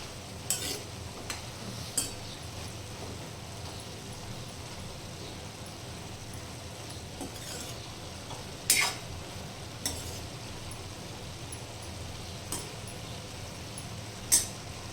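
Cluster beans frying with turmeric and crushed peanut powder give a soft, steady sizzle, punctuated by occasional sharp clicks of a spoon scraping and stirring in the pan, close and quiet.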